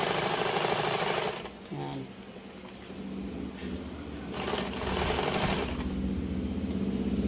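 Singer zigzag sewing machine stitching jersey fabric, a steady mechanical whir and rapid needle clatter running continuously with slight surges in speed, loud and close throughout.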